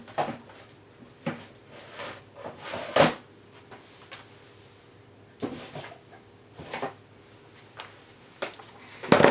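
Several wooden drawer slides and thumps, scattered and close, some sharp knocks and rustles, in a quiet room with a drawer of tabs and doilies opening and closing.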